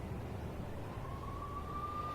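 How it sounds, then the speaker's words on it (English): Police sirens in the Max Payne video game rise into a faint, drawn-out wail over a steady low rumble, sounding distant and unaccompanied by voices. "I could hear the sirens. Their wail was a crescendo."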